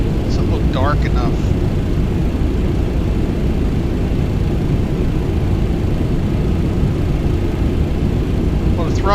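Engines of a TFDi MD-11 airliner in Microsoft Flight Simulator idle at Orlando, producing a steady, loud, low broadband roar throughout with a faint whine on top and no breaks.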